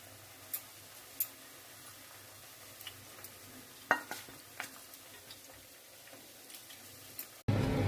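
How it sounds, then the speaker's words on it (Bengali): Chilli chicken pieces, marinated in green chilli, ginger and garlic paste with salt, frying quietly in a pan with soft crackles and sparse spatula ticks, ending in a sudden louder burst. "আমি চিকেনগুলো সব ফ্রাই করে নেব।"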